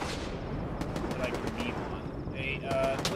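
Gunfire in the video game Stalker 2 comes as a series of sharp, fast shots and short automatic bursts, fairly close. Game ambience sits underneath.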